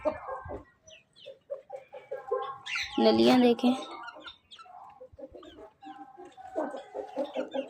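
Village chickens clucking and squawking close by, with one loud burst of agitated squawking midway, while someone talks over them throughout.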